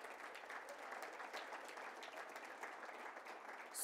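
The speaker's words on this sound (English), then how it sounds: "Let's give a nice round of applause," Audience at a Hispanic Heritage Month school celebration applauds a School of the Arts group, a steady, even wash of many hands clapping, heard faint and distant as in a large hall.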